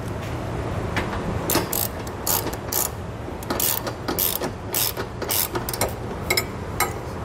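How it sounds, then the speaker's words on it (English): A ratchet with a 20 mm socket tightens Curt trailer hitch bolts on a 2019 Audi A3, giving repeated close bursts of rapid metallic clicking with short pauses between strokes. "I'm going to use a 20 millimeter socket."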